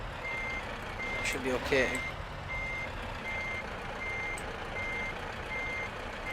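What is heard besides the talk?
truck reversing beeps while backing a trailer, Euro Truck Simulator 2 video game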